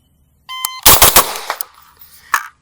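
Three loud, close rifle shots from an HK MR556 A4 short-barreled rifle with an 11-inch barrel, fired in quick succession, their sharp cracks trailing into echo.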